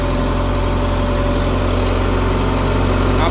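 Sonalika Tiger 75 CRDI tractor engine running steadily at close range, a loud continuous diesel drone with low rumble and a constant mid tone, with no other sounds.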